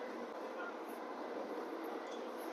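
Inside a moving Indian train, a steady, faint rumble and hiss of the carriage fills the space, with no distinct clatter standing out.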